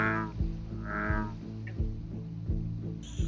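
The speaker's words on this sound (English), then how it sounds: "a deep guttural croak ripples through the darkness" An American bullfrog calls in a nighttime wetland with deep, resonant, guttural croaks repeating in a slow steady pulse, close and loud, with no other voices.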